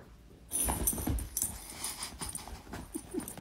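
A dog whimpers and whines in short, breathy bursts amid close rustling and handling noise, with a couple of higher whine-like notes near the end and no talking.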